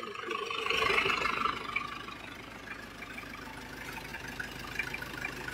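Diesel engine of an Isuzu Panther idling after Blackcore tuning, a steady low rumble with a slightly louder swell near the start, running alone with no talk.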